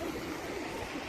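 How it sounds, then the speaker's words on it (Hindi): Water rushes into a canal lock at Watford as the levels equalise, a steady close-up gushing and burbling that stays loud and even throughout the short stretch. "पानी जो है इसका लेवल बराबर हो रहा है"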